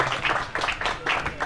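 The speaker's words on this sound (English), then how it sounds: "Please clap for her." Mourners at a burial in Igbanke clapping for a late female music icon, short uneven bursts of hand claps close by, moderately loud, with crowd noise between them.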